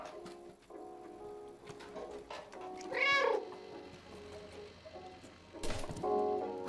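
A cat in the video game Stray meows a few times over a quiet game ambience with soft tonal music, and a sharper electronic sound near the end.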